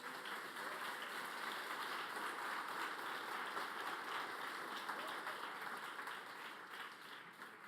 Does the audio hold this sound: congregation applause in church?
yes